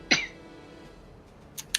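A sharp, close sneeze bursts out at the start of a tabletop RPG session. Quieter room sound follows, then two shorter, fainter bursts near the end.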